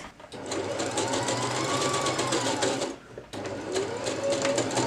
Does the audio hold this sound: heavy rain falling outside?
no